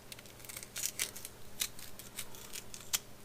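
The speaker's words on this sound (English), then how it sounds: "what I'm doing to trim the Brussels sprouts is I'm just cutting off the stem end" A kitchen knife trims the stem ends off fresh Brussels sprouts on a cutting board, giving a few crisp, close cuts and snips spaced irregularly across a quiet background.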